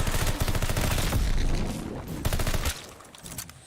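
Gunshots ring out at zombies in a video game, a dense loud burst of rapid fire that fades into scattered shots and echoing tails, with no one talking.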